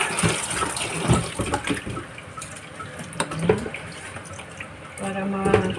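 Shrimp being rinsed under a running kitchen tap, water splashing and gushing unevenly with handling noises, and a brief fuller stream near the end.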